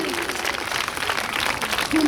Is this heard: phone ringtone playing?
no